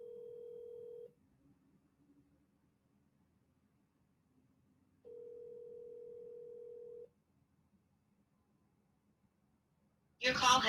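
A telephone call rings through on the line: two long, steady ringback tones separated by a few seconds of near silence, then a recorded voice starts abruptly.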